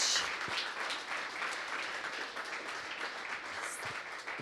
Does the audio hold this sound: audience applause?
yes